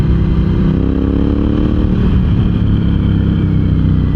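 An air-cooled Ducati Hypermotard 1100 EVO SP motorcycle engine runs loud and close with a deep, throbbing low end, holding a steady rev without pause.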